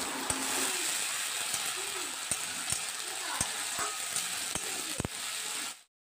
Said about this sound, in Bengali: পেঁয়াজ ভালো করে ভেজে নিতে হবে।